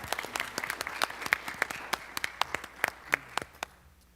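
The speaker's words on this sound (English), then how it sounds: "So let's give that a round of applause." A school board meeting audience gives a short round of applause, sparse individual claps ringing out fairly clearly at first, then thinning and fading to quiet after about four seconds.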